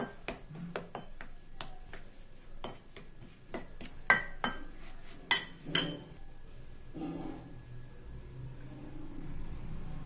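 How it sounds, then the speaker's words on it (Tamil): Spicy paneer masala paste being mixed with oil in a bowl, a run of quick clicking taps and scrapes of a spoon against the dish, a few sharper clinks, then quieter soft stirring, close and with no voices. "இப்போ இதை நல்லா கலக்கிடலாம்"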